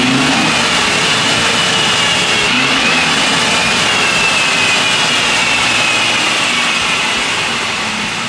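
An RC car engine with its exhaust cut off, revving loudly and continuously at close range, a harsh sustained roar with shifting pitch.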